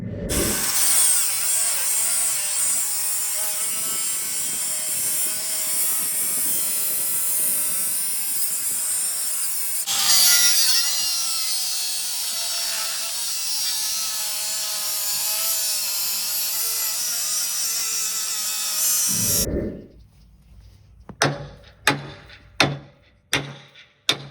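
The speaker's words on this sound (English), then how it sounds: "I'm gonna be cutting off these little ends here and there, just with an angle grinder, bower grinder." Angle grinder cutting the small metal ends off a utility trailer frame, a loud continuous high-pitched grinding whine lasting about twenty seconds with a brief dip midway, then several short sharp bursts of contact.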